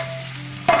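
Capsicum pieces fry in a pan with a steady sizzle, followed by a sharp scrape as they are stirred near the end.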